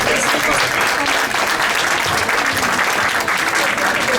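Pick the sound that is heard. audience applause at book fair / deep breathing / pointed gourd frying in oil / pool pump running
audience applause at book fair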